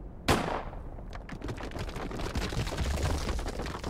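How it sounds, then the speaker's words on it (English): A single sharp gunshot cracks in a video game as a rock is shot, followed by a long rumbling, clattering tail like tumbling debris from a landslide, fairly loud with no talk. "what if I just shot the nearer rock?"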